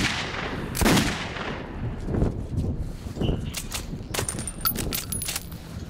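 Sporadic gunshots and metallic impacts in the video game Metro Redux, with a few heavy reports and scattered clinks over a rumbling ambient background, fairly loud and close.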